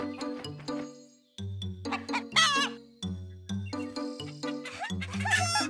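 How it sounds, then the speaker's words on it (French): Cartoon chickens in a farmyard cluck in short repeated bursts, loud and close, with a few higher squawks between the clucks and no talk. "Dans la basse-cour, Caillou a vu des poulets."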